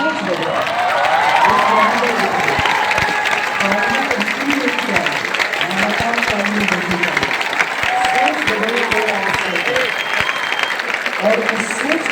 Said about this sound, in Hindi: एक बार खड़े होकर के खान सर की ताली बजाइए